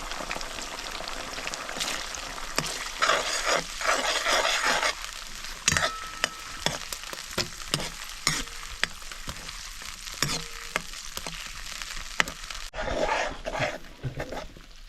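Crab meat stir-fried in a pan over a traditional wood-fired stove, a steady broad sizzle with repeated scraping and stirring clicks throughout, fairly close and continuous.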